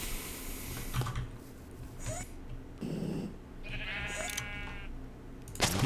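Sheep bleat in the Minecraft FTB Unleashed modpack, several short nasal game bleats spaced across a quiet farm scene, with a few soft clicks between them.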